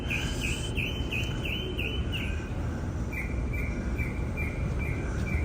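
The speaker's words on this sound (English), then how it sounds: "I think that bird sound is an artificial deal" Repeated electronic bird chirps, apparently an artificial bird-deterrent call, sound outdoors on the Las Vegas Strip, a steady series of short tweets in two bursts over a constant loud background of traffic and crowd noise.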